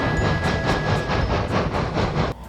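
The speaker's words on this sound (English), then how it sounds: "She would arrange empty wagons for Wickham to take up the line" Railway wagons roll past with a steady, rhythmic clickety-clack of wheels over rail joints, a loud continuous clatter that drops away at the end.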